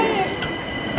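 A Greater Anglia train passes on an overground line in London, a steady loud rumble of wheels and carriage noise with a faint squeal, swelling slightly at the end.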